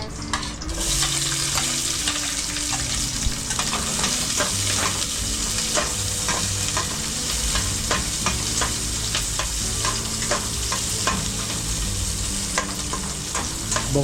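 Onions sauté in a hot pan, giving a continuous loud sizzle overlaid with rhythmic scraping and stirring strokes throughout.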